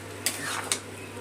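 Noodles with soy sauce being stirred in a pan, two sharp utensil clinks against the metal over a soft background hiss, close and brief.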